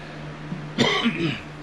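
A single raspy cough, close and fairly loud, followed by a short throat-clearing rumble against a quiet background hum.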